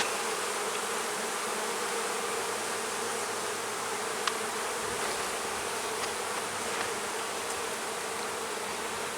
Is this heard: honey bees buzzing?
yes